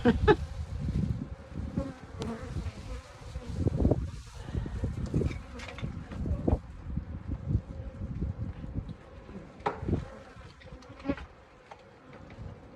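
Honeybees buzz around a Flow Hive with seven-frame super, a dense close hum of many insects rising and falling, with light wind noise and no talk.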